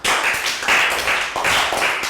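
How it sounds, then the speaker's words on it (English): A classroom of young primary pupils claps during a maths lesson, a loud, dense burst of applause with uneven swells that carries on for a couple of seconds. "Big high five and rounds of applause."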